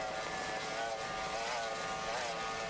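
A 21-foot Challenger racing boat with a Mercury 2.4 outboard at full throttle during an F-class powerboat race, a steady high-pitched engine drone at a constant distance.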